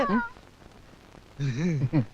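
A cat gives a couple of short meows, close by, after a brief quiet stretch.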